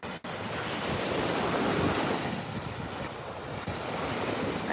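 Surf and gusting wind on a sunny Florida beach in a small town, a steady loud wash of waves with wind buffeting the microphone after a brief knock at the start.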